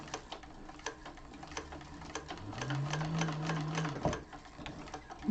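A sewing machine stitching a second row around the Zynah bag, rapid steady clatter of the needle with a rising motor whine near the middle, close and moderately loud.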